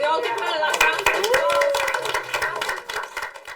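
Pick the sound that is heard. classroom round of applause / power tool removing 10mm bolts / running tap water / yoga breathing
classroom round of applause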